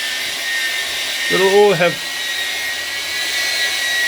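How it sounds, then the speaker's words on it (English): 1938 SS Jaguar 3½ litre six-cylinder engine, now running properly on all six cylinders, idling as a steady whirring hum with a thin high whine, while someone speaks briefly over it. "we're very happy the engine is now running on 6 cylinders properly"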